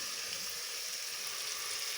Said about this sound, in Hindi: माशाल्लाह हरी मिर्चें फ्राई हो रही हैं।